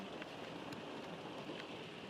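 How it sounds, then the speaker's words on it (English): Rain falling steadily outdoors, a constant broad hiss with scattered louder drops, heard alone at a fairly low level. "But man, we sure got some rain here."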